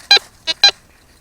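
Three short, high electronic beeps from a metal detector signalling a find, spaced unevenly in quick succession and heard clearly against quiet surroundings.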